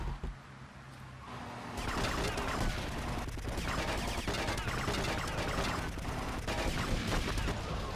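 Gunfire and explosions blowing up taxis in GTA Vice City, a dense loud barrage of rapid shots and bursts that starts after a quieter second and keeps going.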